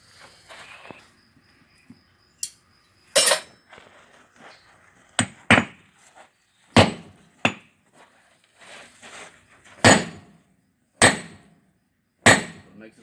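Hammer blows on hot steel while forging a bottom fuller, a dozen or so sharp ringing strikes at an uneven pace, loud and close, with a quiet gap between each.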